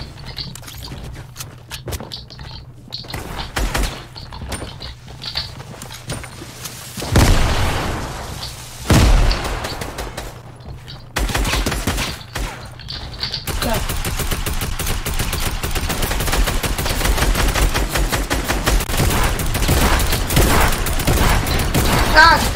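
Gunfire in a Fortnite match, with scattered single shots, then heavy bursts and booms and a long stretch of rapid sustained firing, loud and close, with no talk over it.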